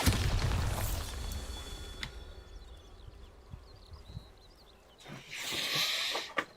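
A Bombarda spell blast in the game Hogwarts Legacy: a heavy booming burst at the start, then faint magical whooshes and fizzes, and a second loud rushing blast near the end, with no talking.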